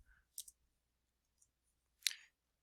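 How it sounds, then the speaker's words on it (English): Computer mouse clicks while working in a video editor, a few sharp, isolated taps spaced apart in a quiet room, the last one the loudest, with no talking. "I can click in there and I can hit enter in between the two words"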